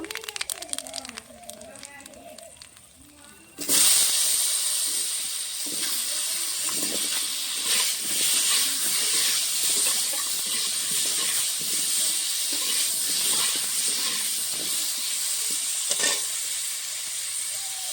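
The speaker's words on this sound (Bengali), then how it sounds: "এই তেলে কালো জিরে ফোড়ন দিয়ে আলু ভেজে নেব।" Potatoes hit hot oil tempered with black cumin in a pan after fish was fried, bursting into a loud steady sizzle and hiss that continues with stirring; a voice speaks briefly before and faintly under it.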